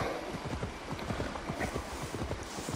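Horse hooves in Assassin's Creed Valhalla, a steady clip-clop of a galloping mount on firm ground, quick repeated thuds at moderate distance under a soft wind-like bed, no talking.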